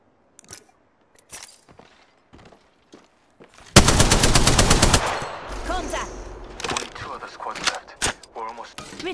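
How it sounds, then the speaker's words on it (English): Apex Legends gameplay with scattered single gunshots and footstep-like clicks, then a loud sustained burst of rapid automatic fire, followed by more scattered shots and game effects. "Taking fire."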